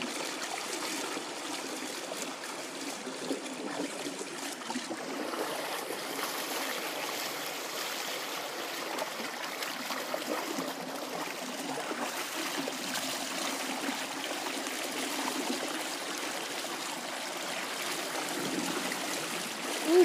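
High flood water pours over and through a pair of culverts, a steady, even rushing and trickling wash that continues unbroken at moderate volume with no voices.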